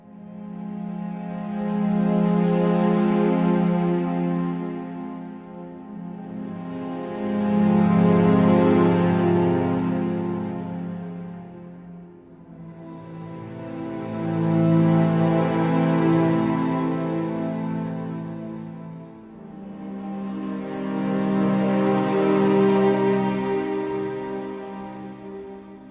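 Live-recorded long string ensemble texture swelling in and fading out in four slow, even waves of sustained, warm bowed tone, full and close, with no voices.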